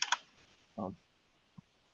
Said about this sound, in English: Okay, you're typing very loudly again.